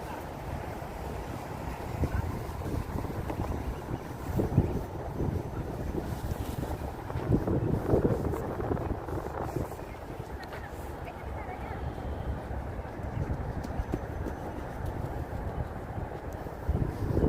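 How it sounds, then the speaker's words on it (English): Strong, steady wind buffeting the microphone on Roosevelt Island in New York City, a continuous low roar with gusts swelling and easing throughout, loud and close. "But wind picked up all of a sudden. And wind is pretty steady and pretty strong."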